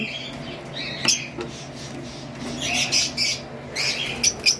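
Lovebirds chirp in short, bright bursts and quick tweets, some close and some softer, over a steady low background hum, with a few louder squawks scattered through.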